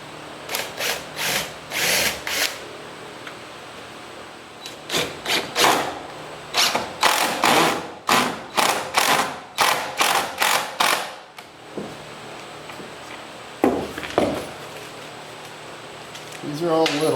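A power drill drives self-starting screws into a table saw dust collector box, with repeated short whirring bursts in quick succession, loud and close, while someone talks between runs.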